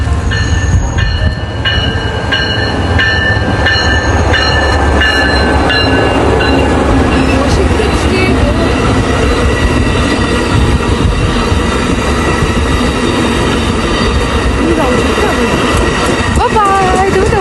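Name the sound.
train running with passengers aboard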